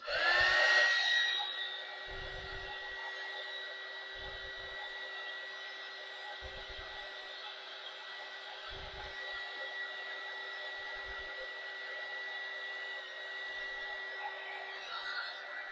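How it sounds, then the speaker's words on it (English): A heat gun runs with a constant, steady whirring blow and a high whine, loud and close, holding its level throughout with occasional faint low thumps beneath. "I'm going to be turning my heat gun on, so just word to the wise, you might want to turn your volume down"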